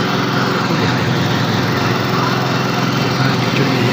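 Vehicle engines drone steadily up close on a muddy, rain-soaked town road where vehicles are stuck in thick mud. The engine noise is loud and continuous, a high-pitched buzz with no breaks.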